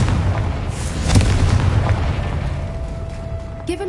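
A Confringo blasting spell explodes in the Hogwarts Legacy video game, a deep rumbling boom swelling about a second in and rolling on as a dense low-end roar before fading under a faint steady tone.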